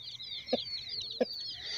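A hen clucks twice in a farmyard where a tegu lizard is attacking chicks, two short close clucks over a steady high peeping of chicks.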